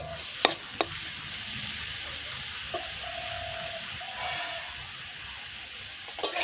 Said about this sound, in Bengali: মাশরুমগুলো দিয়ে কষিয়ে নেবো